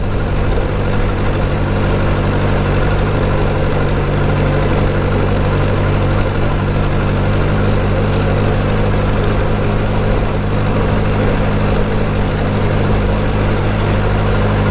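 A motorcycle engine drones steadily and loudly throughout, deep and continuous, with only slight rises in throttle and no talking.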